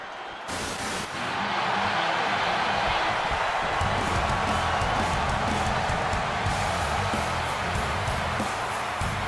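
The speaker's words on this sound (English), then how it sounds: "this capacity crowd just exploded" A packed arena crowd in the video game WWE 2K26 roars and cheers in a dense, continuous wall of noise that stays loud and steady from start to finish.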